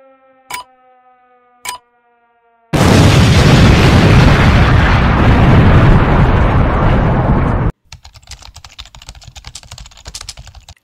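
An explosion sound effect in a movie theme quiz: after a few sharp ticks, a loud, dense roaring blast lasts about five seconds, then cuts to a quieter crackling tail.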